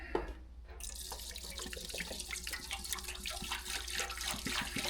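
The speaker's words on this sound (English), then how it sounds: "I'm gonna put just a gallon of hot water in here." Hot water pours in a continuous gurgling stream into the tank of a Vevor ultrasonic carburetor cleaner, close and fairly quiet, with splashy bubbling as the level rises.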